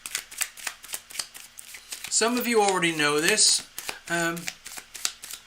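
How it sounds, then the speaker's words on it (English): Tarot cards shuffled with quick, crisp riffling flicks throughout, close and clear, while someone talks over them partway through. "I'm going to keep shuffling."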